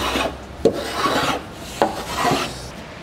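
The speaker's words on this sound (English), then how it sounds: "while I'm pushing the plane, I'm also rotating it along the edge" A hand plane rasps in long rubbing strokes along the edge of a wooden surfboard, with two sharp catches punctuating the steady scraping, close and clear with no talk.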